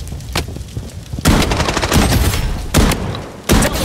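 Rapid automatic gunfire in the Blood Strike shooter game, loud and close, with dense bursts and sharp single shots cracking through a continuous battle din.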